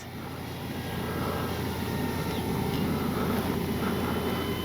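A FlightLine 1600mm P-51D Mustang RC model plane on its landing approach with gear down, its steady propeller and engine whine blending into broad outdoor rumble at a moderate distance, with no talk.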